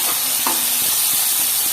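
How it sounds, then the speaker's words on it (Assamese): Cut silkworm pieces frying in a pan for an Assamese silkworm dish, a loud, dense hiss of hot oil filling the whole moment with a few soft stirring knocks underneath. "এতিয়া কাটি মেলি ধুনীয়াকৈ ভাজি আছোঁ"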